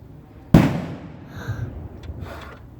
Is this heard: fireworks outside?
yes